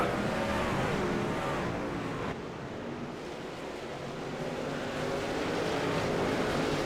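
Dirt-track race trucks roar around the Eldora oval under green-flag racing, a dense distant engine drone that swells, dips briefly, then builds again, with no voices over it.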